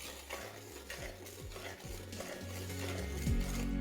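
Mustard masala for bata fish curry stir-fried in a pan, a soft steady sizzle with repeated scraping strokes of a spoon, close and fairly quiet throughout.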